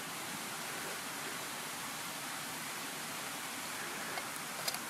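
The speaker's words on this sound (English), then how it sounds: "This is a very fast boil" Water at a fast rolling boil in a pot outdoors for camp coffee gives a steady, dense hiss and bubbling roar. It stays even throughout, with a few faint clicks near the end.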